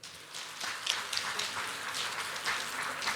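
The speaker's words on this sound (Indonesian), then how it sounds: "Kita berikan tepuk tangan." A crowd applauds a graduating student at a polytechnic graduation ceremony. The clapping is a steady, moderately distant patter that continues throughout.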